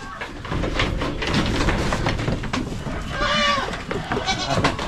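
Goats on a farm give several bleats, the clearest a wavering cry midway, over background noise and people talking.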